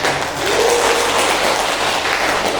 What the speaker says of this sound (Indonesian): Ya, beri aplaus dulu.